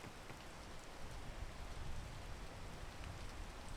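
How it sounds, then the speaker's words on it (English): Rain falls steadily, a faint continuous hiss of drops with no breaks, heard alone. "The rain, dude. Always at the most inconvenient times."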